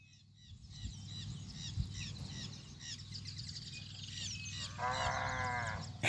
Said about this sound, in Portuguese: Berrou! Ela tá berrando desde o primeiro grito que eu dei nela